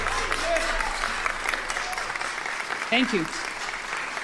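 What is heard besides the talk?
audience applause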